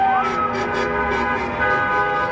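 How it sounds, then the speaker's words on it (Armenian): A police car siren sounds during a street protest on Mashtots Avenue in Yerevan, wailing loud and close with a steady, pulsing tone. "Շատ արագ այստեղ մոտեցավ նաև ոստիկանական ինչ-որ մեքենա"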